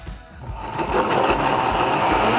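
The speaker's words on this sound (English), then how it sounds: "So we're gonna toss it on the blender." A blender motor whirs up and settles into a steady, loud blending drone, with a low rhythmic churn underneath as it blends a marinade, and no talking.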